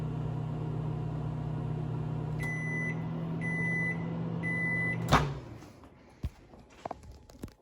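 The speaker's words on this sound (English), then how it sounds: "put it in the microwave for 3 minutes" A microwave oven hums steadily while steaming a bag of breast pump parts, then beeps three times; the hum stops, a door clunks open and a few faint knocks follow.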